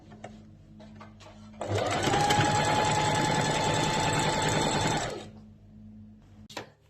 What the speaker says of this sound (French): on commence la couture à 1 cm du bord